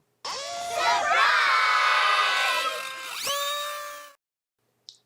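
A loud crowd cheering sound effect bursts in suddenly, high shouts and whoops from many voices swelling and sustaining for about four seconds before cutting off abruptly, followed by a brief faint blip.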